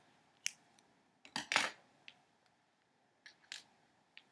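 Scissors snip off a yarn end on a small knitted teddy bear, a few sharp close clicks and cuts in an otherwise quiet room, spread unevenly over a few seconds.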